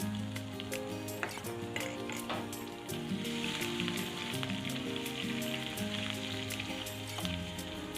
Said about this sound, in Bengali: ফোড়নটা একটু ভাজা ভাজা হলে রসুন দিয়ে দিলাম।